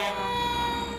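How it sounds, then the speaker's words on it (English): A steady, loud siren wail from police, fire and EMS vehicles in a hospital appreciation parade sounds continuously, with the low rumble of passing truck engines beneath it. "You see all those drive by, and I don't know how you can't smile when you hear all the sirens, see all the lights"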